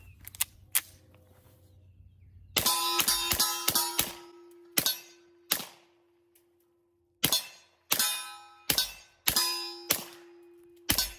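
An unsuppressed Beretta M9A4 pistol fires at targets: about ten sharp, loud reports, some in quick pairs and others spaced out. Each shot rings briefly with a metallic tail, and there is no talk.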